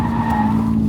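Tires of a stock 2022 Subaru BRZ squeal in a sustained, loud skid as the car drifts through a corner on a track, with engine drone underneath.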